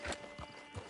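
Horse hooves in the Red Dead Redemption 2 video game, three soft clip-clop steps with a faint whinny-like tone, quiet and close.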